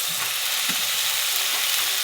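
Rice boiling in a pot on a gas stove, a soft, steady bubbling hiss with faint stirring bumps, close and without talk.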